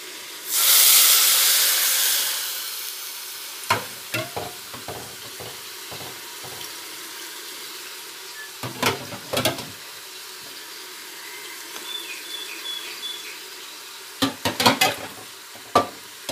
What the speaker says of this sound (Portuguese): estou refogando aqui o arroz com cenoura e alho